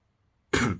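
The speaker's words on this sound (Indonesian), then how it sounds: "Oh, saya batuk." A single short, sharp cough bursts out after a moment of near silence, close and fairly loud, from one person.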